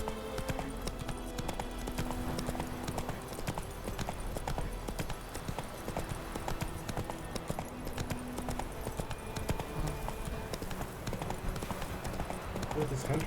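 Horse hooves clip-clop steadily at a trot in Witcher 3: Wild Hunt, an even rhythmic patter running the whole time beneath someone talking.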